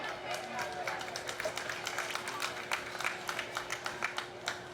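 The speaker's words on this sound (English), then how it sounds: "let's give them a nice round of applause." An audience at a junior gilt show, with exhibitors in the show ring, claps in a light round of applause over a steady background hum. Claps come as scattered, moderately distant sharp taps.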